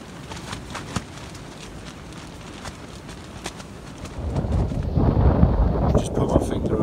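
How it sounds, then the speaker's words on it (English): Wind blowing outside a winter camp shelter, a rushing gusty roar that swells louder in the second half, with muffled buffeting against the microphone and people talking. "It's awesome how it's so windy out there, but it's not in here."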